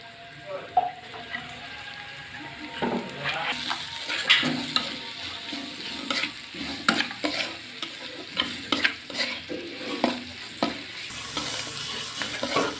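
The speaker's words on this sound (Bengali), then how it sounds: "শাকের মশলাগুলো ভালোভাবে ভাজা হয়ে গেছে" Spices with salt and green chillies frying for a greens dish, soft sizzling under repeated scraping stirs of a spatula in the pan, close and steady.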